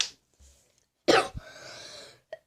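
A single sharp, close cough bursts out after a quiet stretch, followed by a breathy trailing exhale and a faint short throat sound at the end.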